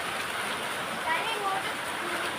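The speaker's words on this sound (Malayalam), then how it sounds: "ബാക്കിയുള്ളടത്ത് പറഞ്ഞാൽ മഴയാണ്." Rain falling steadily around a house with a tin roof, a continuous broad hiss close by and fairly loud, with no talking.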